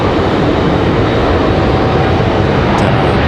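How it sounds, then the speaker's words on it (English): An Airbus A319 comes in to land at Raleigh-Durham airport in a steady breeze, its engines producing a loud, continuous broadband roar that holds evenly throughout. "Definitely a little bit of a struggle there for the A319."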